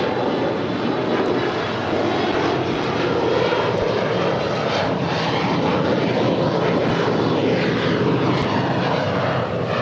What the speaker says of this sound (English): That was Alaska SkyWest 3373 departing to Santa Rosa on an Embraer E175LR